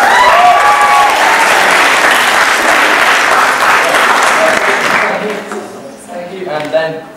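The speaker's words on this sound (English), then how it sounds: "Please give a round of applause." Audience at a children's charity magic show bursts into loud applause with cheering voices, the clapping fading out after about five seconds as a few voices carry on talking.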